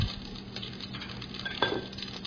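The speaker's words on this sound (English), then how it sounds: "And then add mustard seeds. Okay, how beautiful, they are spluttering." Mustard and cumin seeds splutter in hot oil in a home kitchen pan, a soft, steady patter of small crackles with one brief louder pop near the end, no voices.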